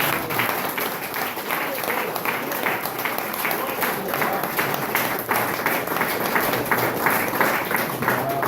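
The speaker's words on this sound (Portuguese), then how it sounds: "Pode aplaudir o Senhor Jesus" Church congregation applauding, a sustained dense patter of many hands clapping throughout, with some voices mixed in.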